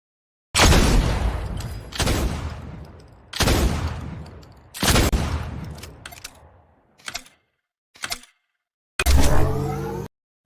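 In Fortnite, a shotgun fires four loud, booming blasts with long decaying tails, spaced about a second and a half apart, then short mechanical reload clicks and a final burst of fire.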